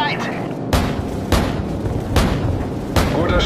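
Heavy gunship cannon shots in Call of Duty 4 boom at regular intervals, four loud blasts about a second apart, with rumbling battle noise between them.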